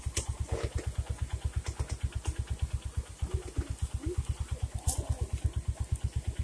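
A motorcycle engine idles with a steady, even putter close by on a forest trail, its low pulsing thump continuing throughout with a few faint clatters and distant voices.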